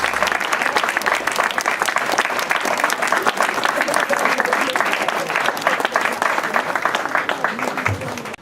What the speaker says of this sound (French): Je crois qu'on peut applaudir la tribu sortie